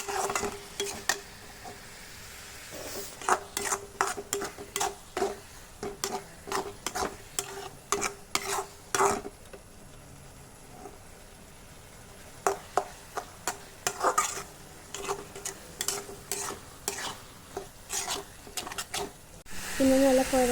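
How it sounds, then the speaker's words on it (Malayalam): Masala paste for beef roast being stirred in a pan, repeated scraping and tapping of a spoon against metal in uneven bursts over a faint sizzle, fairly close and quiet. "നല്ല കുഴമ്പ് രൂപമാണ് വരെ നന്നായിട്ട് ഇളക്കിക്കൊണ്ടേ ഇരിക്കുക"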